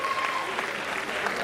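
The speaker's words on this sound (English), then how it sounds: "So I think we should clap for her again." An audience claps at an award presentation during a swearing-in ceremony, with a brief, dense burst of steady applause filling the room.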